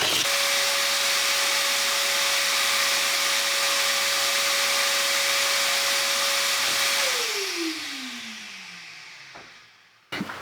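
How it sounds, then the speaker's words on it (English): A vacuum cleaner sucks up old newspapers and debris from an uncovered Victorian fireplace, a loud steady roar with a constant motor whine that drops in pitch as it is switched off and winds down, then a brief clunk. "let's get the cleaner in here and see if we can't vacuum that up"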